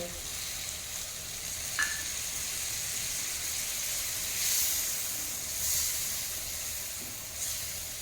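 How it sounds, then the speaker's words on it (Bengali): Water poured into spiced masala sizzling in a pan for a red, spicy prawn curry, giving a steady hiss with a few gentle swells of steam partway through and no voices. "এখন দিয়ে দেবো প্রয়োজন মতো জল"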